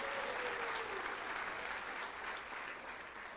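A church congregation claps in a dense, steady wash of applause, sustained and fairly even, with a voice faintly audible at the start.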